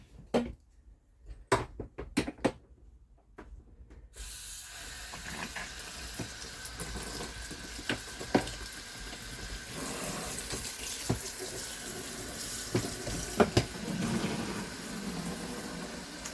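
Water rushes steadily into an RV washing machine for a rinse cycle. A few clicks and knocks come first, then the inflow begins and holds as an even hiss, fairly close, with small splashes and clunks along the way.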